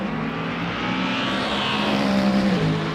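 A McLaren and a Mustang GT race car duel in a sim racing game at the United States Grand Prix round, engines droning and whining steadily at high revs with a shifting pitch as they run close together.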